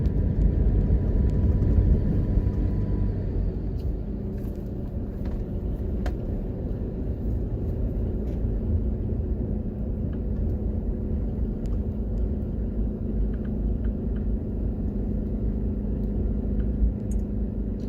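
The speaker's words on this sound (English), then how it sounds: "Today we're going to be driving through St. Anns Bay" Steady engine rumble and road noise from a car driving along Main Street through the town of St. Anns Bay, Jamaica, a continuous low drone heard from inside the vehicle with faint scattered background sounds.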